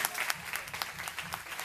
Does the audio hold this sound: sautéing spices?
no